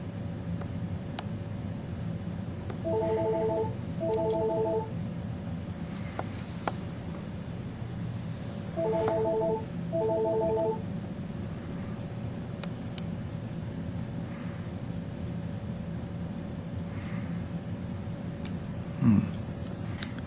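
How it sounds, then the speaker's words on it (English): A telephone rings in two pairs of short electronic trills, several seconds apart, over a steady background hum in an indoor workshop. "And of course the phone's going to ring."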